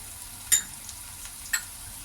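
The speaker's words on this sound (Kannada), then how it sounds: "ಈಗ ಈರುಳ್ಳಿ ಎಲ್ಲ ಸ್ವಲ್ಪ ಫ್ರೈ ಆಗಲಿ ಒಂದು ಟೂ ಮಿನಿಟ್ಸ್ ಫ್ರೈ ಮಾಡ್ಕೊಳ್ಳೋಣ" Onions, cumin and curry leaves fry in a pan for poha chitranna, giving a soft steady sizzle with two sharp spatula clinks about a second apart.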